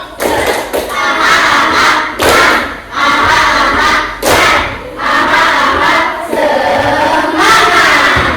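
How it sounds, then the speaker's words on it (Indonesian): Schoolchildren in an Indonesian classroom doing a rhythmic spirit clap, loud group bursts of clapping and shouting in a patterned sequence of several beats with short gaps between them, close and energetic. "Oke, tepuk semangat."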